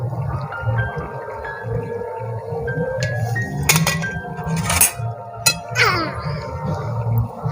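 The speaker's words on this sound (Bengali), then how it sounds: "মা এবার ঢাকা সরিয়ে নিচ্ছে।" The lid comes off a pot of Tangra fish curry with radish, giving metallic clinks and a ringing scrape over a low steady background hum, with faint voices nearby.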